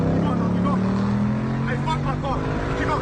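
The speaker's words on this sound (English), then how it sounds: "The car sound beautiful, don't it?" A drifting car's engine roars steadily at a car show, a loud sustained drone with shifting tones that sounds near; voices are heard under it.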